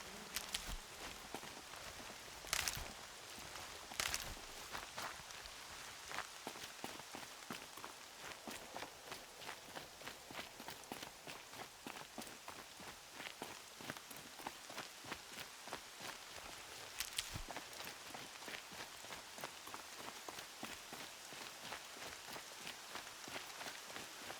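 Steady patter of rain in a video game across the whole stretch, with dense crackling drops and a few louder splashes, continuous and fairly even in level.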